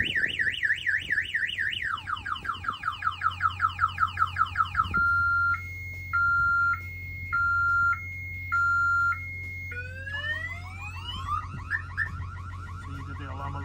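A loud electronic alarm on a 2024 Volvo VNL860 semi truck cycles through warbling, fast chirping and alternating two-tone wails, with a low engine rumble underneath.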